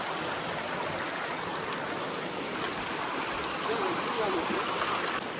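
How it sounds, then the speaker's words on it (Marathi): Village stream flowing, a steady broadband rush of running water heard close and continuous, with faint voices briefly in the background. "जाताना आपल्याला झरा सुद्धा भेटलाय."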